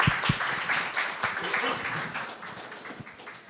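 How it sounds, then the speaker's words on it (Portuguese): A meeting audience applauds for Dr. Tiago in a room, clapping that starts with a few sharp hits and then fades gradually as it tapers off. "Queria uma salva de palmas do Dr. Tiago?"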